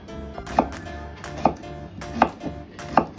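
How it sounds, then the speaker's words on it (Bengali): A knife chops raw green mango into small pieces on a board, four evenly spaced, sharp, close thuds over a soft background, with no voices. "ফাইন চপ করা লাগবে না, জাস্ট ছোট ছোট টুকরো করে নিলেই হবে।"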